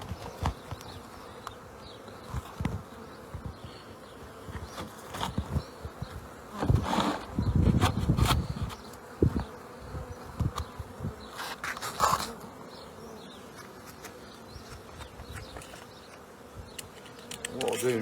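Honey bees swarm inside a brick chimney in Congleton during a colony removal, their dense buzzing steady throughout and swelling louder for a few seconds midway, with scattered close knocks and handling noises and no talk.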